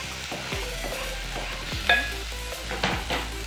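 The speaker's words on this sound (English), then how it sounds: "At this point I'll add the ginger and the garlic, the grated ginger and garlic." Grated ginger and garlic sizzling in a pan with onions, a steady close fry under repeated stirring scrapes and a few clinks of a utensil against the pan.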